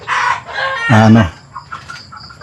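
A Light Brahma rooster crows once nearby, loud and drawn out, with softer clucking from other chickens before and after.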